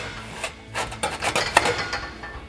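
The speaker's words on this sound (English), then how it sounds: "we'll put one of our clamps over the edge there. And then we can slide that over our front pipe" Metal scraping and clinking as an exhaust extension pipe with a clamp slides over the front pipe of a Proven Ground 4-inch single exhaust system on a 2015-2020 Ford F-150, a short run of close, irregular rubbing and clanks.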